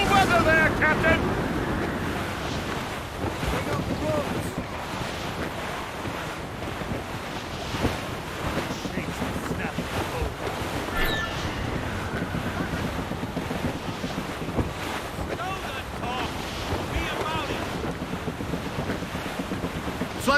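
A sailing ship at sea in foul weather in Assassin's Creed Rogue: gusting wind roars over crashing waves and creaking hull, loud and continuous, with crew voices shouting over the storm at times.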